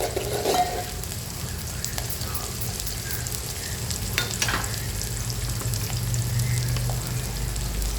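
Curry leaves and turmeric frying in hot oil in a pan, a steady, close sizzle with faint crackles and light stirring clinks running throughout.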